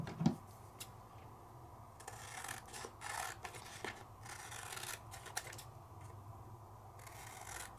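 Scissors trimming a craft card decorated with alcohol ink and embossing, heard as quiet, close snips and papery rasps in an irregular series over a soft background hiss.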